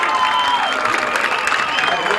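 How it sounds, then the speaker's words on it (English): A football crowd at a 1989 high school game cheers and claps for a player, a loud mixed roar of voices and applause heard throughout, with a commentator's voice over it. "You can hear the crowd's response. They like their boy Rutman."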